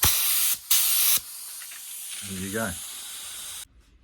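Two loud spray bursts of leather cleaner onto a BMW E38 728i car seat, close and sharp, followed by a quieter hiss; someone speaks briefly near the end.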